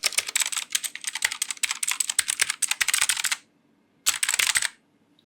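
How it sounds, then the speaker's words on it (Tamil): Fast, clattering keystrokes on an AULA S2022 mechanical gaming keyboard, a dense run of crisp clicks for about three seconds, a pause, then a shorter burst of typing, close and clear with no talking. "இப்போ கூட நான் டைப் பண்ணிட்டு இருக்கேன்."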